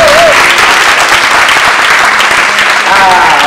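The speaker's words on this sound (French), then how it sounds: "Acclame pour le Saint-Esprit." A church congregation at a French evangelical preaching event bursts into loud, sustained applause, dense clapping filling the room with voices and cheers mixed in throughout.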